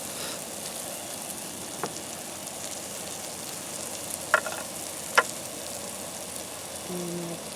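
Bacon frying in a pan at a campsite, a steady close crackling sizzle throughout, with a few faint sharp clicks and a brief low hum near the end.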